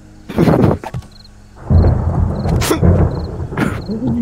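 Thunder rumbles during a storm in the survival video game 7 Days to Die, with a sharp crack followed by a loud, sustained rolling boom and some rain-like hiss.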